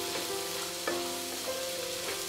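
Fresh peas and carrots fry steadily in a pan, a continuous close sizzle with a brief clink partway through, and no voices.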